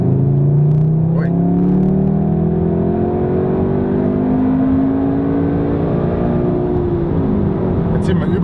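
A tuned VW Golf 7R Variant engine revs high under hard acceleration, heard from inside the car as a loud, continuous rising and falling drone, with speech faintly under it.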